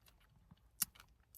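Brief crunchy bites into a Cadbury chocolate egg, a few soft crackles with one sharper crunch in the middle, close up and quiet.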